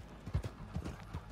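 Mule hooves clip-clop at a steady walking rhythm in the Red Dead Online video game, several close, distinct hoof strikes over a soft background, with no talk over them.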